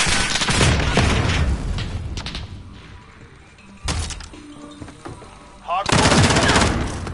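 Video game combat erupts with rapid automatic gunfire and heavy booms, a grenade explosion among them, in loud repeated bursts separated by quieter stretches.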